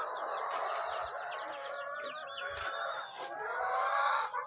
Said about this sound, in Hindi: ये मुर्गियाँ,